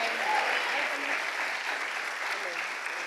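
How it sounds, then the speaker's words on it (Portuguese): A church congregation at a women's conference in Brazil bursts into loud, sustained applause, a dense wash of clapping with faint voices underneath. "Então dê um forte aplauso a Ele."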